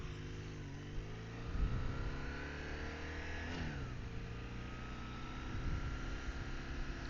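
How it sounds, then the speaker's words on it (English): A car driving along Laurel Creek Road, a winding mountain road in the Smokies, approaches and passes at moderate distance with a rising then falling engine tone and tyre hum, fairly faint and alone. "here comes the car"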